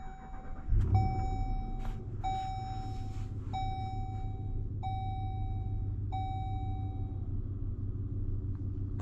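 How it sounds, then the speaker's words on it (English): Steady low rumble of a 2026 Ram 1500 Big Horn Black Widow pickup with a 5.7-liter Hemi V8, with a loud clunk early on and a series of regularly spaced chimes ringing over the engine. "today we're going for a drive in this 2026 Ram 1500 Bighorn Black Widow"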